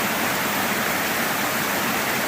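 Comer Creek Falls on the Appalachian Trail, running high after heavy rain, pour in a loud, unbroken roar of cascading water close by, with no voices.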